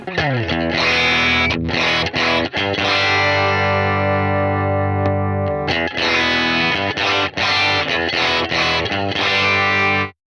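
Loud, saturated electric guitar chords through a pedal compressor ring out with a squashed, even sustain, briefly cutting off and restarting, dense and continuous with no voices.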